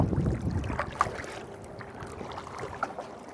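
A canoe moves along the Ain river in the Jura, soft water splashes and paddle strokes close by, with light wind noise across the microphone.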